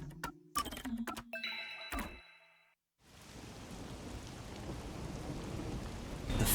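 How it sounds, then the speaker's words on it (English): Rain in the video game Master Detective Archives: Rain Code sets in as a steady, dense hiss after a brief silence, building slightly, following a couple of seconds of unrelated tonal game sounds. "melts against the sound of rain."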